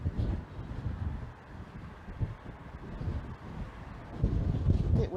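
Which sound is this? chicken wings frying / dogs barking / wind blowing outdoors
wind blowing outdoors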